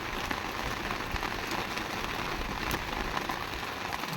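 Light drizzle falling steadily on a surface, a dense, even patter of fine drops with no pauses and no voices.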